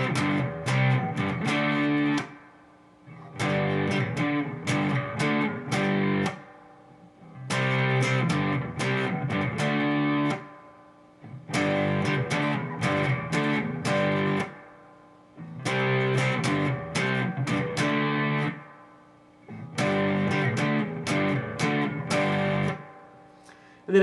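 Distorted electric guitar plays a verse riff, loud and close, in six repeated chord bursts separated by short pauses.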